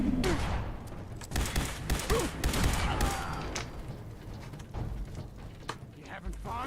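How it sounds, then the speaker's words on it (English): Rapid bursts of laser rifle fire in the Fallout 4 video game, a run of sharp repeated zaps in the first half easing to sporadic shots, with someone talking over it. "point a laser rifle into your face. And keep pulling the trigger until you die"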